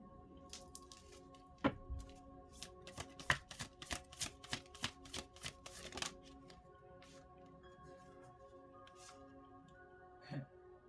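Tarot cards shuffled by hand in a quiet room, a long run of crisp riffling snaps and soft flicks in uneven bursts, close and fairly faint, with no talking.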